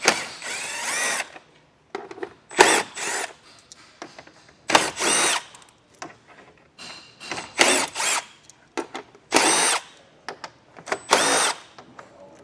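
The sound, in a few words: power drill removing T30 Torx screws on Jeep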